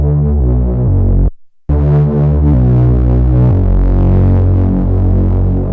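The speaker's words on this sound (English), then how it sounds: "you can't forget about adding distortion and saturation" Distorted, saturated square-wave synthesizer playing a loud buzzing bass-heavy riff of stepped notes, broken by a brief silent gap, then continuing with a thick, gritty harmonic tone.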